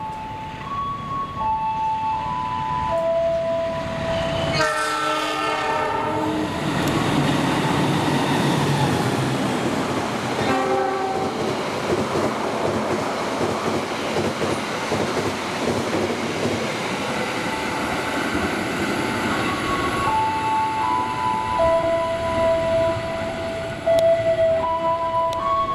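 Passenger trains, the Brawijaya and the Madiun Jaya, roar through a station in turn, with loud horn blasts at the start and end, a long rumbling, rattling passage of wheels and cars between, and faint squeals.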